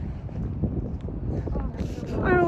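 Cold wind gusts outdoors, buffeting the microphone with a continuous low roar for a few seconds, while muffled voices sit faintly in the background.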